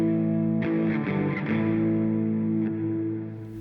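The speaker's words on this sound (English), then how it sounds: "then we add some distortion, some crunch." A heavily distorted electric guitar power chord rings out and sustains, with a few picked accents over the droning tone before it fades.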